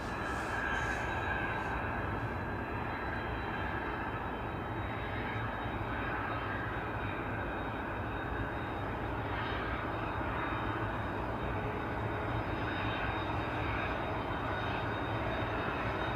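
Jet aircraft at Manchester Airport producing a steady, broad engine roar with a faint high whine, moderately distant and continuous throughout, no talking over it.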